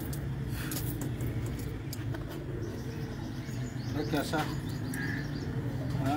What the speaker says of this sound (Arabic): ما شاء الله حمام وصفات حلوة وجاي يطلعونا وراويكم الحمام واحد واحد